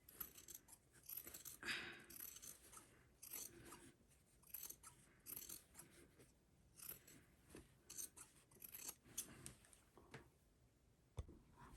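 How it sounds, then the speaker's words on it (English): Scissors trimming fabric edges and seam allowance, a rapid series of quiet crisp snips and rustles in irregular bursts, close but faint. "So now we're going to trim the edges"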